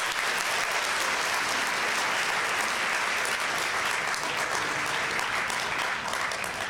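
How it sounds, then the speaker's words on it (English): Steady audience applause for a keynote speaker at a Model UN conference in Washington, DC, a dense, even wash of many hands clapping that holds at full strength throughout with no voices over it. "Let's give one more round of applause"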